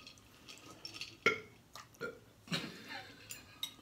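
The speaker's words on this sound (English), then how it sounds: "I want credit for my 2 little burps." Several short, wet burps after eating spicy spaghetti, spaced irregularly with a louder one near the middle, close and fairly quiet with no talking.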